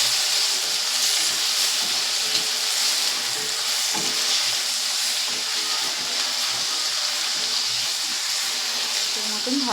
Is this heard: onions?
yes